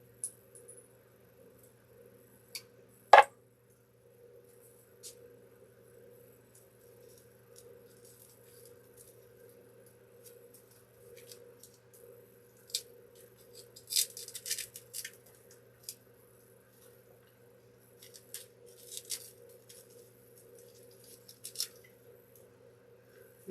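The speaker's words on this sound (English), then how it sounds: "So let me just trim these pieces down." Scissors trim floral arrangement pieces for a nature-themed candlestick centerpiece, with sparse quiet snips and one sharper cut near the start, then scattered rustles and clicks over a faint steady hum.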